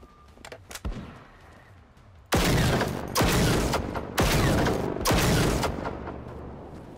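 Heavy gunfire from a resistance sniper in the video game Generation Zero comes first as a few faint shots, then as four loud, booming broadband blasts about a second apart, each with a lingering rumbling tail.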